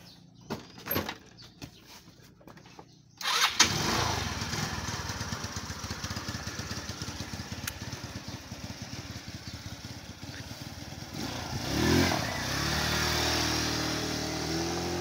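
Easy Ride 150 motorcycle with an idle and auto choke problem: a few clunks, then the engine catches and runs at a close, steady idle that surges briefly midway before settling again.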